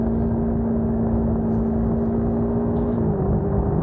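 CFMoto 300NK motorcycle engine holding a steady droning whir, then its pitch drops near the end as the rider shifts up a gear, with a loud constant rumble throughout and no talking.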